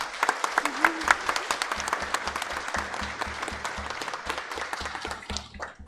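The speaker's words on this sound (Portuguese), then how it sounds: "uma salva de palmas para eles." A church congregation gives the singers a round of applause, a dense, lively burst of clapping with a brief voice at the start, steady and close before thinning out toward the end.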